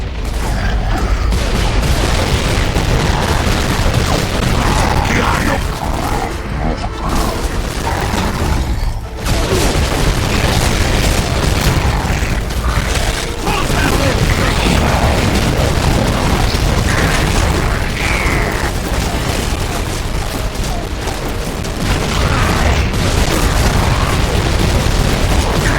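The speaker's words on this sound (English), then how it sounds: "Seismic activity is getting stronger" A deep, continuous earthquake rumble from the video game Gears of War 2, loud and sustained for the full stretch with heavy low-end booms and shaking debris-like crashes, no talking over it.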